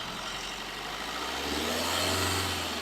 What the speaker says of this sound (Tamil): வண்டி ரன்னிங்கில் தான் இருக்குது